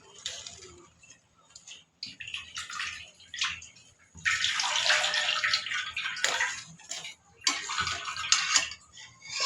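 Fried vermicelli being rinsed under running water in a kitchen, a steady splashing rush that swells and breaks off in bursts, with light clinks of dishes and utensils.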